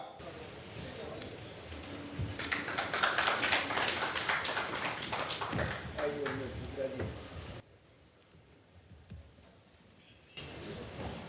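An audience claps to welcome a speaker onto a stage at a Bihar political talk event. The applause is moderate and fairly close, builds for several seconds, then drops away, with a voice talking over part of it.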